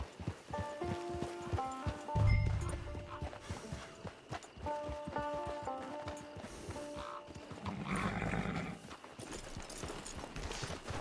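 Horse hooves clip-clop in Red Dead Redemption 2, with an animal call rising briefly near the start, over layered game music and ambience.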